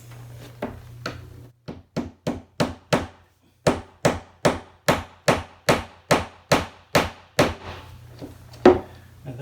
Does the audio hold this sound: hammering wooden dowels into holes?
yes